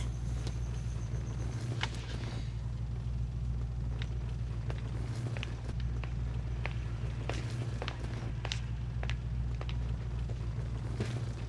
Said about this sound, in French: Je vais reculer la voiture.